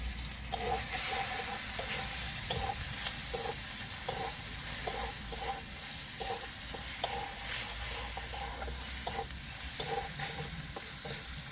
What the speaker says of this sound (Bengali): ভালো করে ভাজা হয়ে গিয়েছে